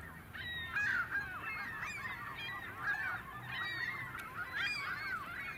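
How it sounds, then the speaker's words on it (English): White-winged scoters, large diving ducks of coastal waters, give faint, repeated nasal honking calls over a steady, soft background wash. "here we have some white-winged scoters"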